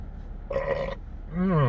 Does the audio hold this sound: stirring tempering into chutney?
no